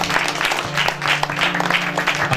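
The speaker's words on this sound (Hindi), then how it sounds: "हाथों को उठाइए प्रभु की ओर, ताली बजाते हुए धन्यवाद दें।" A congregation at a Hindi-language Christian prayer meeting claps in thanksgiving, producing dense, steady applause from many hands that fills the whole stretch, with a faint sustained tone beneath.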